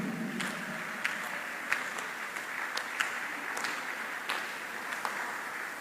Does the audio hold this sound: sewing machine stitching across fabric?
no